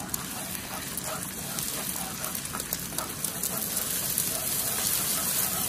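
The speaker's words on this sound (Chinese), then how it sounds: "油热之后下入鸡蛋液，" Beaten egg poured into hot oil in a wok and stirred apart, a steady crackling sizzle that builds gradually and holds without talk, with home fried rice being cooked.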